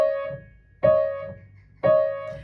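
Two piano keys struck together ring out as clear chords, three strikes heard at even intervals, each sustaining and slowly fading before the next, with no talking over them.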